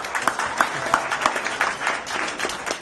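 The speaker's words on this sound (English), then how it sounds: "Let's give them a round of applause." Audience applause at an educators' gathering, a steady wash of many hands clapping throughout, moderately loud and continuous without a break.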